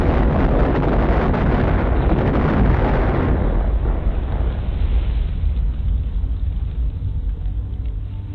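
Heavy bombing of an island in a WW2 Call of Duty battle scene, with fuel storage tanks and aircraft hangars being destroyed: a loud, dense roar of explosions that peaks early, then settles into a lower, rumbling decay.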